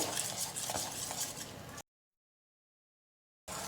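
Hot khandvi batter of gram flour, just cooked in a pressure cooker, being stirred smooth in a pot, giving a close, busy scraping and swishing that runs for under two seconds, cuts to silence, then briefly resumes.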